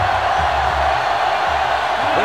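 Sellout stadium crowd in NCAA Football 2005 during a South Carolina vs. Clemson rivalry game, a loud continuous roar with scattered whoops and cheers running steadily throughout.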